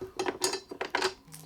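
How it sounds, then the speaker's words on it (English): Four metal M8 bolts clink and rattle as they are taken out of a pack while fitting a Samsung Neo QLED QN95 fixed wall bracket, in several close, bright metallic bursts with brief pauses between them. "Okay, 4 of these M8 bolts out of the pack."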